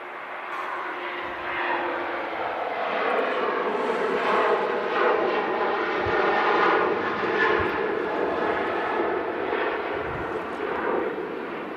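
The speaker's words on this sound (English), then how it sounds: "It's Ryanair out to Porto." Ryanair airliner departing Manchester Airport for Porto, a steady broad engine roar that swells and holds through the whole stretch, fairly loud and alone with no voices.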